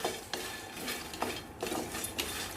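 Phool makhana is stirred and roasted in a teaspoon of ghee in a pan, with quiet, intermittent scraping and rustling strokes over a faint sizzle and no voices.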